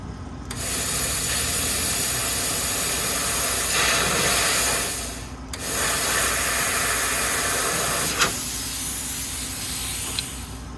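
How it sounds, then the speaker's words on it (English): A plasma cutter slices metal on a 1963 Chevrolet C10 pickup during a taillight install, a loud close steady hiss running in two long cuts with a short break between them. "I'll fire up the plasma cutter and get going"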